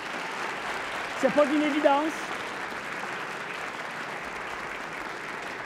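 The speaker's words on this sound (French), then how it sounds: "On peut les applaudir" An audience at a youth debate tournament final applauds with a steady wash of clapping throughout, while a voice speaks briefly over it near the start.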